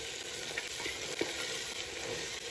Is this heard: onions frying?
yes